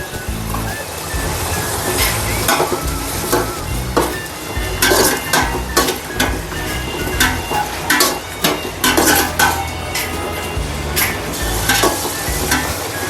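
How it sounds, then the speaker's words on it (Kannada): Green chillies frying in a pan, a loud close sizzle broken by repeated sharp scrapes and knocks of a stirring spoon against the pan, with no talk. "ಹಸಿಮೆಣಸಿನ್ಕಾಯಿ ಚೆನ್ನಾಗಿ ಅದನ್ನು ಫ್ರೈ ಮಾಡಬೇಕು"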